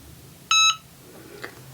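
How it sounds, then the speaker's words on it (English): A single short electronic beep, clear and tonal, from a Cricut EasyPress 3 heat press signaling it is done, followed by a faint click in a quiet room. "Once it's done, it beeps."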